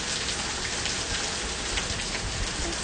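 An intense summer rainstorm pours down in a dense, unbroken hiss of rain on surfaces, steady and close, with any thunder buried beneath it.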